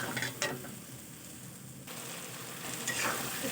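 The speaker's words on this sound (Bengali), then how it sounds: "এর মধ্যেই দিয়ে দেবো মটরশুঁটিগুলো দিয়ে সব কিছু খুব ভালো করে নাড়াচাড়া করে নেব।" Rohu fish curry with peas, cabbage, potato and tomato being stirred in a pan gives a close, steady sizzle with scraping strokes, brightening toward the end.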